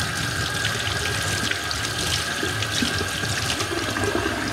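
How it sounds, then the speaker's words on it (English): Hot water runs steadily from a tap into a sink, a continuous close splashing hiss with no voices over it. "We're just gonna take a little bit of hot water."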